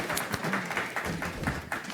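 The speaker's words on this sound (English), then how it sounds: "Applause for Anderson, please." Short burst of applause at a city council meeting in Evanston, scattered clapping from the room lasting under two seconds, moderately loud.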